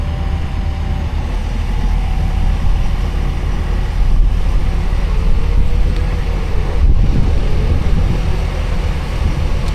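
Steady wind rumbles and buffets a microphone outside beside a Super B truck, a constant broad roar with a couple of brief gusty dips and no talking.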